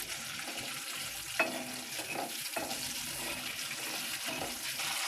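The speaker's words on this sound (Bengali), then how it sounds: "এইবার আমি এই তেলের মধ্যে দিয়ে দেবো কিছুটা তেজপাতা" Bay leaves and dried red chillies fry in hot oil with a steady, moderate sizzle, broken by a few faint clinks and stirring sounds.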